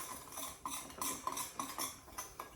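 Spices such as garlic pepper and cumin being stirred together in a bowl, a quiet, close, steady rhythm of spoon scrapes and light clinks with no one speaking.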